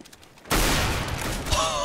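Counter-Strike: Global Offensive gunfire erupts suddenly after a quiet moment, a loud, close, sustained burst of shots with a brief metallic ring near the end.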